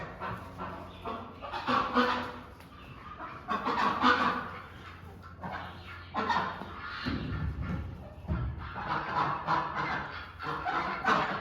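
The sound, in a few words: ducks quacking in barn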